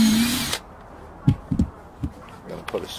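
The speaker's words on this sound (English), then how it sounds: "And we drill one hole through from the inside." A power drill boring a hole during a dual-band vertical dipole antenna build runs in a short whine that cuts off, followed by a few sharp knocks and clicks, with a voice speaking briefly.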